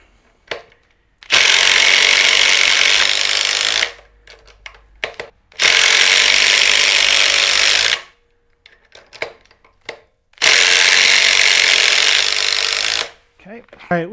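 A Makita XDT19 impact driver running on a 5 amp-hour battery, three loud sustained bursts of a couple of seconds each, separated by quieter pauses with light handling noise.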